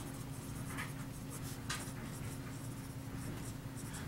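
Fountain pen scratching across paper, steady continuous writing strokes up close with a constant low hum underneath; no talking.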